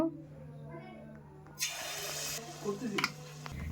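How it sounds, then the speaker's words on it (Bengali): Spoonfuls of semolina malpua batter sweetened with jaggery drop into hot oil, breaking into a bright, steady sizzle that rises suddenly and keeps crackling, with a few clinks and stirring sounds near the end. "তেলটা গরম হয়ে গেছে এবার একটা একটা করে ছেড়ে দেব"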